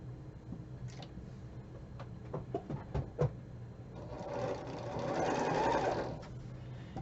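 A sewing machine backstitches along a quilt border, its needle ticking in short bursts and then settling into a louder, steady run mid-clip before easing off.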